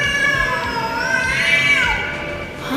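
A street cat makes a strange, drawn-out wavering cry, a sustained tonal yowl bending up and down in pitch, close and fairly loud for a few seconds.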